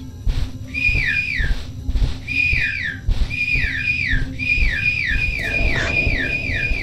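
A person whistles over video game voice chat, a repeated loud, near pattern of quick falling whistled notes in short bursts, with brief gaps and a soft game background.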